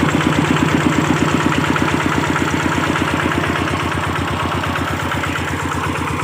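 A small engine driving a water pump, run low on engine oil, chugs at a steady, rapid idle with an even pulsing beat and a faint whine above it, loud and continuous without any voices.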